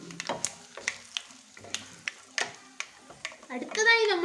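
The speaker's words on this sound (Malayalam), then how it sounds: "കടുക് ഒന്ന് പൊട്ടി കഴിയുമ്പോൾ കടുക് കൂട്ടി തെറിക്കുന്നു" Mustard seeds and red chillies spluttering in hot oil for a Kerala irumbanpuli pickle, sharp irregular pops and crackles close by, building into a denser sizzle at the end, with a voice heard briefly.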